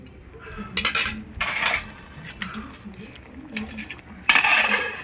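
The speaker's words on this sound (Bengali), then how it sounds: "এবার আমি ঢেকে দেব।" Metal cookware clinks and clatters as a lid is set over a pan of dried fish with potatoes and onion greens, several sharp metallic knocks and scrapes at close range, with a louder clank near the end.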